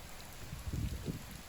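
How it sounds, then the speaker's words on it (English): Rain falling around a liveaboard boat on a solo trip toward Sweden, a faint, steady patter with a few soft low thumps of drops, quiet and close to the microphone. "Perhaps you can hear the rain via this mic."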